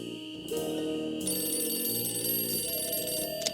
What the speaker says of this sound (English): I wait for the phone to ring